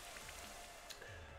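Soft, steady patter of rain from the Rain Dance move in a competitive Pokémon battle, a faint continuous hiss with scattered droplet ticks over a very short stretch.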